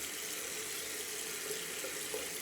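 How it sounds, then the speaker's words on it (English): A shaving brush is rinsed under a running tap, giving a steady, soft hiss of flowing water that stays even throughout without talk. "Rinse my brush out real quick."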